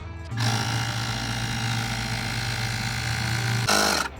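A compressor runs steadily, pumping air into a Shocker air receiver hitch with a steel pivot bolt: a loud, continuous mechanical hum with a low buzzing drone that starts abruptly and ends with a brief hissing burst.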